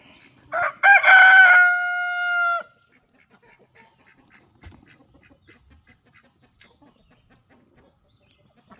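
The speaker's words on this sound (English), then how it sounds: "That's my favorite rooster right there." A rooster crows once, loud and close, a long drawn-out call, followed by several seconds of faint, scattered clucks and rustling.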